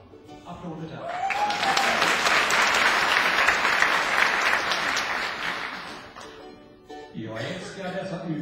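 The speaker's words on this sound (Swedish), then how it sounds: "Applåder där." A live audience breaks into loud applause after a troubadour's solo, dense clapping swelling for several seconds then fading, with singing and voices returning near the end.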